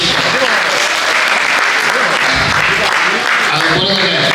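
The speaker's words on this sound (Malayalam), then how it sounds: "എല്ലാവരും ഒരിക്കൽ കൂടി ഒന്ന് കൈയടിച്ച് ആ നന്ദി രേഖപ്പെടുത്തുന്നു." An audience at an Onam celebration held by the Kerala Association of PEI claps steadily and loudly, a dense sustained applause with voices mixed in underneath.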